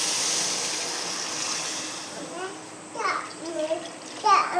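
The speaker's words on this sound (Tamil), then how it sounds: "இந்த ஸ்டேஜில் நம்ம கரைச்சி வச்சுருக்க புளி கரைச்சியில் ஊற்றிக்கணும்." Tamarind water is poured into a pot of bitter gourd curry, making a steady gushing splash that fades as voices, including a child's, begin talking nearby.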